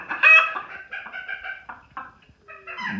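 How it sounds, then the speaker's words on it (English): Old English Game hens cackling in a basement, a run of loud, close, repeated clucks and squawks in uneven bursts, with a few brief pauses between calls. "old English game birds cackling away"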